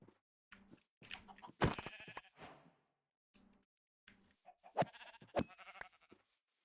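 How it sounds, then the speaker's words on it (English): Several sheep bleat in short, scattered calls in a video game, some close and loud, others softer, separated by brief silences. "Why is there so many sheep? They're so annoying."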